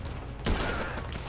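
A single heavy gunshot booms in Grand Theft Auto V partway through, cutting across a low game ambience and leaving a short ringing tail, with no talk.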